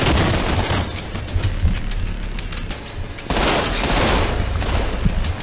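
Dense, rapid automatic gunfire and booming impacts fill a Trepang2 shootout, loud and continuous with a brief lull midway before the firing resumes just as hard.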